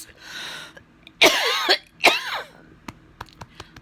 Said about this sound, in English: I'm wondering now, though, if there's any more mucus and it's just a dry cough